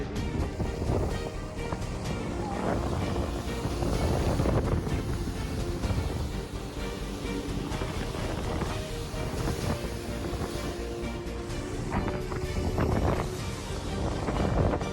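A boat churns through water with a continuous rumbling wash and wind buffeting the microphone, steady and close throughout.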